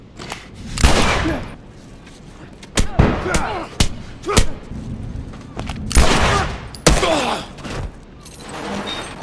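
Sharp gunshots ring out in The Last of Us, a string of loud single cracks and short volleys spread unevenly over nine seconds, with a faint voice in the gaps.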